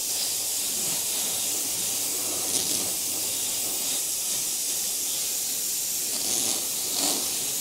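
An aerosol spray can hisses paint onto wood to imitate a knot in faux wood grain, a steady close airy hiss running almost unbroken.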